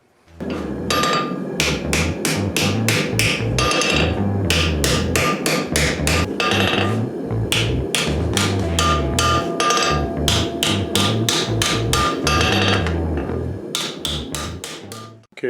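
A lawnmower blade being hand forged with a hammer, heard as a long, loud run of close, ringing metal strikes in quick bursts separated by short pauses.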